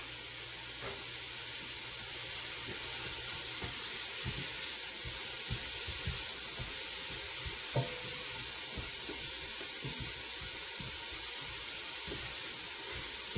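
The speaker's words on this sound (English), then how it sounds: "Now we'll add our mushrooms. Do a touch of salt to help those sweat down." Mushrooms with a pinch of salt cook in a pan, giving a steady, soft sizzle and hiss throughout, with occasional light stirring scrapes and taps.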